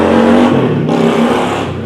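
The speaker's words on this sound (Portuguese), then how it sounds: "passou uma moto aí bem barulhenta" A noisy motorcycle roars past a house while heard from a veranda, a loud, sustained engine drone that peaks early and slowly fades as it moves away, with no talking over it.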